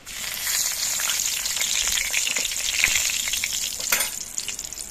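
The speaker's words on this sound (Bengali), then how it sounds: "এই তেলের মধ্যে আমি দিচ্ছি দুটো তেজপাতা" Two bay leaves sizzle in hot oil, a steady close crackling frying sound that fills the whole moment, with a brief louder spit near the end.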